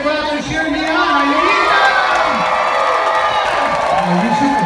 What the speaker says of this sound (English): I need the crowd to cheer me on